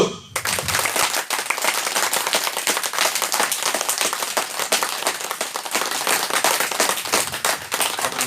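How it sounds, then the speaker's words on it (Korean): A church congregation claps together, loud, rapid and sustained, a dense crackling wall of hands that carries on without pause from start to finish. "자, 여러분 하나님께 영광 박수 올려드리겠습니다. 박수!"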